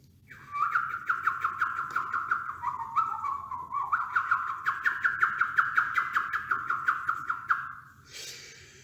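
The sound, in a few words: group whistling imitating birds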